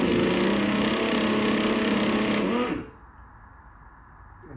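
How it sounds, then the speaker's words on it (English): A pneumatic impact gun spins out a brake rotor bolt on the front wheel of a Harley-Davidson FXSB, a loud, steady whirring burst close by that cuts off abruptly about three seconds in, leaving quiet room tone. "I don't like using my impact gun, but these have been on pretty long and tight, so I loosened them a little bit."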